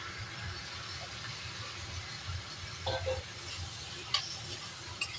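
Masala paste of ground tomato, garlic, ginger and onion fries in a pan with a steady, close sizzle and a few light stirring clicks and scrapes, with no talk.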